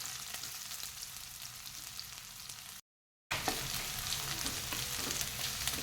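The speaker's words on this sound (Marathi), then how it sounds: "आता आपल्याला तेलामध्ये कांदा चांगला भाजून घ्यायचा आहे" Onion frying in oil in a pan, a soft steady sizzle with faint stirring, cut by a short silent gap before the frying resumes slightly louder.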